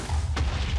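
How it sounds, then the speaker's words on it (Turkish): A hydrogen creeper from a Minecraft mod explodes in one deep, heavy boom with a rumbling tail, loud and close. "Bu bildiğiniz hani 30-40 TNT gibi patladı ya."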